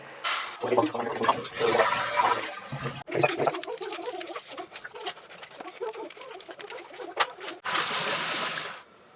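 Water hoses and splashes over parts from a Geberit concealed flush cistern being cleaned of dirt, a rushing, hissing spray with brief pauses and knocks, ending in a steady burst of running water, close up.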